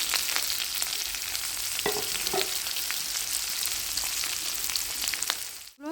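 Onions frying in hot oil with bay leaf, whole dried red chillies, cumin and a little sugar, giving a loud continuous sizzle with a few stirring scrapes, ending abruptly; no voices.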